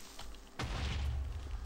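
A Minecraft creeper detonates with one muffled, low booming blast that rolls on as a rumble. Faint background game ambience comes before it.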